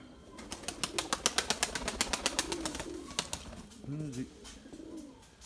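Pigeon chicks call from a loft in a rapid, regular train of sharp peeping clicks at close range, with a brief low voice-like sound near the end.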